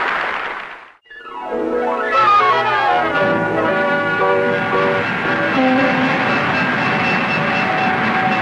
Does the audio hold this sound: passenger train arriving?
yes